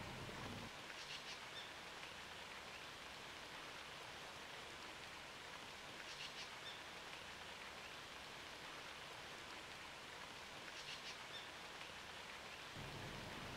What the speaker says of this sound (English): you can see it is still raining